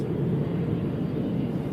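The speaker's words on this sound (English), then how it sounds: "Cargo jets like this one circle the globe 24 hours a day, day and night" A cargo jet airplane in flight gives off a steady, broad low roar that holds evenly throughout without any change in pitch or level.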